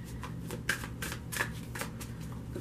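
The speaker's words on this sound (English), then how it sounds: "as soon as I get done shuffling." Tarot cards being shuffled in a steady riffling rhythm, soft and close, with repeated flutter bursts over a low background hum.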